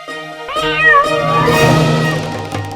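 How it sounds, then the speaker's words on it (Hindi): A cat in an animated Aladdin series gives one loud, drawn-out meow that rises and falls, close and clear after a brief silence. "काफी फुर्तीली बिल्ली।"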